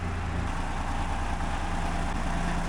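Tractor engine idling nearby, a steady low diesel rumble with a faint rhythmic throb, continuous and even with no voices.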